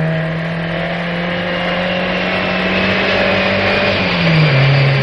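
A car engine drones close by with a steady tonal hum that rises slightly, then the pitch drops near the end as the car comes closer and slows.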